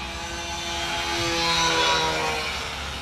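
A model Catalina flying boat takes off on its hull with no undercarriage, its engine drone rising and swelling to a loud peak, then easing slightly as it climbs away, with no talking.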